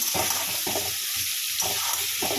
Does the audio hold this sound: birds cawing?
no